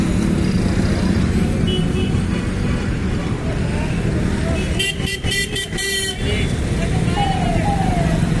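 A congested road in Abohar, Punjab, packed with cars and auto rickshaws: a constant roar of engines and traffic, with a burst of several quick horn honks midway and indistinct voices in the background.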